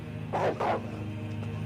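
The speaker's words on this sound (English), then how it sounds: "So there's a bunch of dogs out here." In the Resident Evil Remake video game, two quick dog barks sound close together near the start, followed by a fainter yelp, all over a constant low game drone.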